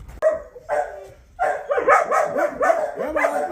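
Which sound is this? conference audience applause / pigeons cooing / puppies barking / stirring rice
puppies barking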